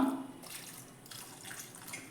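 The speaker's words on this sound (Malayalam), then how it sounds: "അപ്പോൾ വെള്ളം ഒഴിച്ചു കൊടുത്തു" Water poured into a cooking pot of pumpkin for pulissery makes a soft, brief splashing rush, quiet and close, fading after a couple of seconds.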